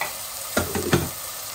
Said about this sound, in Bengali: আমি পেঁয়াজ বসাই দিচ্ছি